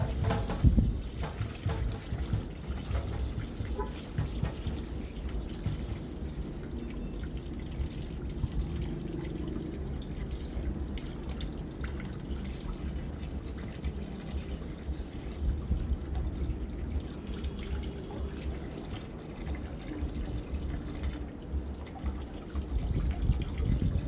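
Running tap water pours steadily as prawns are washed clean, a continuous close splashing flow that holds without pause for the whole stretch.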